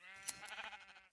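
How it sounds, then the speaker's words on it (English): A sheep bleating in Minecraft, a single short wavering baa, quiet and alone. "Tons of sheep."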